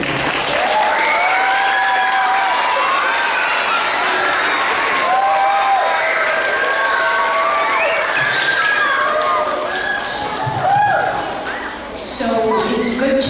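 An audience at a youth naturalist watershed award ceremony breaks into sustained applause, dense clapping filling the room for several seconds with a few shouts and voices mixed in before it tapers off.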